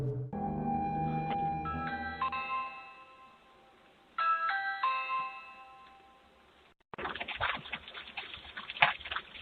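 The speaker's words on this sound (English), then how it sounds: "a Ring camera captured a woman walking up to the front door of a house and ringing the doorbell" A doorbell at the front door of a house chimes repeatedly in several clear ding-dong bursts, ringing close and loud, with a stretch of broadband rustling noise after the chimes.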